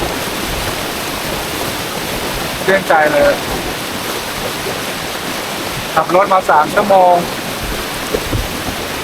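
Wang Kan Lueang waterfall pours with a loud, steady broadband rush that fills the whole clip, while someone speaks briefly twice over it.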